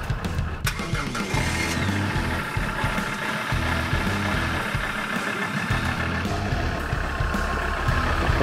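A SsangYong Rodius engine idles while warming up, a steady, fairly loud mechanical drone that runs continuously throughout with no voices.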